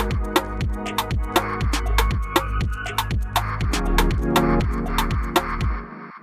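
A hip-hop beat built in FL Studio pulses with punchy 808 bass hits, crisp hi-hats and a retro synth layer, steady and loud throughout before ending abruptly, with no voices.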